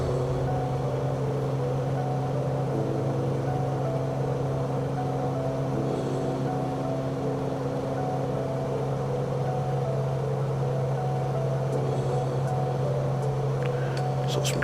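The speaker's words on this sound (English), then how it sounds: "Slightly over revving the engine." A light aircraft engine drones steadily in Microsoft Flight Simulator during a flight from Castle Kennedy to the Isle of Islay, running a little over-revved with a constant hum and a few faint clicks near the end.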